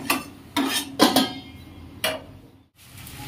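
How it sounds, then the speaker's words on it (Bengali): A lid goes onto a pot of tomato chutney with several close metallic clanks and rattles, a few sharp knocks spaced apart, followed by a brief silence. "এখন ঢাকা দিয়ে দিব।"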